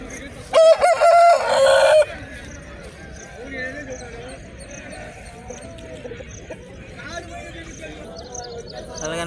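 A loud rooster crow rings out near the start, followed by busy poultry market ambience at Nallapadu with clucking hens and people talking throughout.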